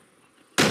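A rocket launcher fires in a military video game, a sudden loud, broad blast that cuts in abruptly near the end after a quiet stretch and stays heavy and sustained, close by.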